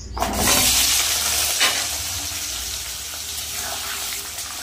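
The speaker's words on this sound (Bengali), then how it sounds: "কড়াইতে তেল দিয়ে দিয়েছি। এবার একটু আমি আলুগুলো ভেজে নেব" Potatoes fry in hot oil in a wok, giving a steady loud sizzling hiss close up with faint stirring, and no voices.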